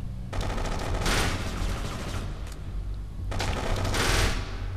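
Uzi submachine gun fire in Kane and Lynch 2: two long, rapid automatic bursts, loud and close, with steady background noise and no talk.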